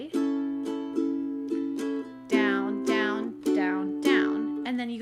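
A ukulele strums the outro chords of a song in paired down-strokes, bright plucked chords sounding close and clear, with a faint voice briefly under the playing.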